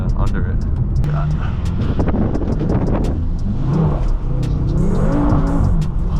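A BMW M6 engine revs on a rainy night with its exhaust popping and crackling, loud and continuous from inside the car, while a person talks over the engine noise.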